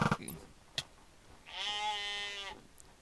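A sheep-like mob in the Minecraft video game lets out one sustained, wavering bleat of about a second, loud and clear after a short, quiet stretch of scattered game noise.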